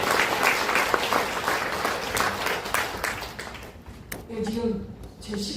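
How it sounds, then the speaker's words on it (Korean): An audience at a public debate forum on long-term care facilities applauds in a dense, steady wash of clapping that fades out, leaving faint voices murmuring at the end. "우리 김현 경기도의회 국민의힘 의원님께 큰 박수 한번 부탁드리겠습니다."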